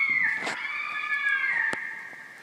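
A fisher screaming in woods: a high, drawn-out wailing scream, harmonic and wavering, sustained for the whole stretch with a sharp click partway through.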